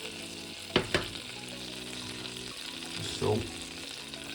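Tandoori butter made from Kerrygold with tandoori powder, garlic and salt bubbles gently in a pan, a steady soft sizzle broken by two sharp utensil clinks early on and a brief scraping stir later, with a few spoken words.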